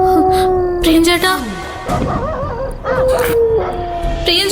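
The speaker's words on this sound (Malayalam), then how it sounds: "പ്രേതത്തിനെ കാണുമ്പോഴാ പട്ടി ഓലിയിടുന്നത്." A dog howls loudly and close by, in long wavering cries broken by short yips and whimpers, with brief pauses between the drawn-out notes.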